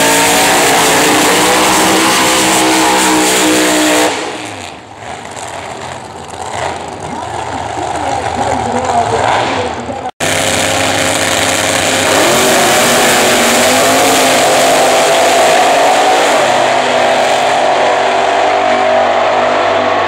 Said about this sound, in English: It's still the fastest that car's gone down the motor deck